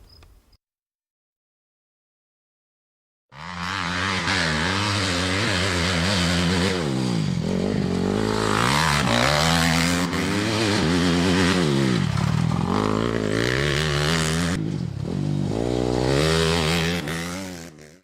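A motocross motorcycle revs loudly through a flat turn, its engine rising and falling continuously and close after a few seconds of silence.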